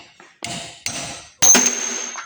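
A hammer strikes a cold steel knife tang clamped in a vise: three close, sharp metallic taps with ringing decay, the last hit loudest and leaving a bright lingering ping.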